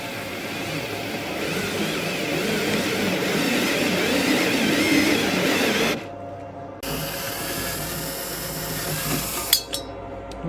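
A power drill boring an air hole into a box for a quiet home Bitcoin mining enclosure, steady loud whirring grind for about six seconds, then a pause and a quieter hum with brief clicks.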